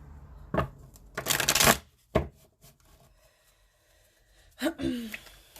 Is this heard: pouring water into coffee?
no